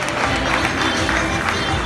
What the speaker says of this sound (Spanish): con un fuerte aplauso, por supuesto, los vamos a recibir